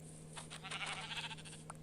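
A sheep bleats once in the Minecraft video game, a short wavering cry over a steady low hum and room noise.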